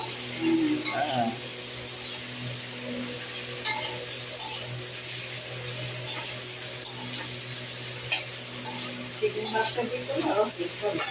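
Vegetables sizzle steadily in a hot pan with prawns and taro while a utensil scrapes and stirs, with a voice speaking at times over the frying.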